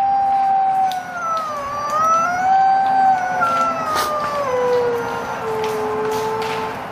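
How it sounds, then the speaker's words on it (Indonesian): A toy wolf lets out a long electronic howl, loud and close, its wavering tone rising and sliding down across several seconds with a faint second howl layered beneath. "suaranya serigala menyeramkan"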